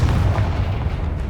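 Booming Confringo fire spell blasts from the Hogwarts Legacy video game rumble continuously and loudly, a dense low roar with no voices.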